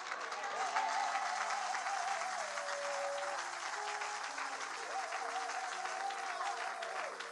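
A church congregation applauds and cheers at a sermon, a dense, sustained wash of clapping from a large crowd over a few seconds of held music, with voices faintly mixed in.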